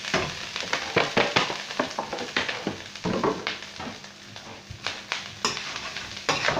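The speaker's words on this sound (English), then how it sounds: "Get the rice coated in the oil." Rice being stirred into hot oil with cumin seeds in a pan, producing a soft sizzle under frequent scraping and clattering stirs at an irregular pace, close and moderately quiet.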